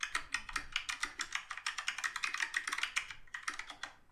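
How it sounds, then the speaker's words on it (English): Rapid clicking of keys on a computer keyboard, a quick, uneven run of close, crisp taps that pauses briefly near the end and then resumes. "You and your typing"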